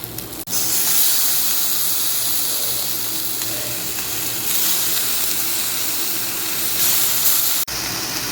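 Potatoes tipped into a pan of softened, sautéing okra bring a steady, close hissing sizzle that runs nearly the whole time, with brief breaks near the start and end.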